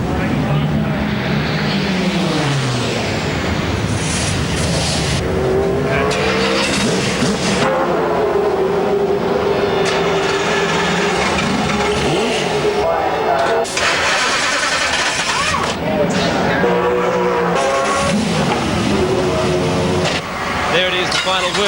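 Race car engines start and rev on the grid at the 1997 Bathurst 1000, a loud, continuous roar of multiple engines with a commentator talking over it.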